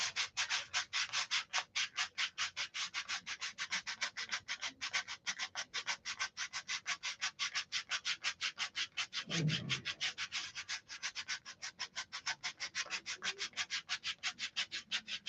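Wood being sanded by hand in quick, regular back-and-forth strokes, a dry rasping rhythm of roughly four passes per second that continues evenly and quietly, with one brief dull knock partway through.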